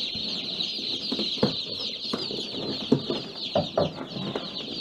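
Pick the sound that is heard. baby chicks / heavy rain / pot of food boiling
baby chicks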